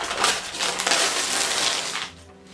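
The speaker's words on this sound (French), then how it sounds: "j'adore les cadeaux parce que j'adore pouvoir les déchirer comme ça, là" Crinkly, crackling paper being torn and ripped in quick bursts, up close, easing off near the end.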